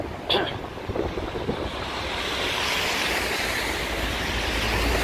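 Steady, rushing wind roars and buffets the microphone outdoors on a snowy day in downtown Chicago, growing stronger and more constant as it goes on.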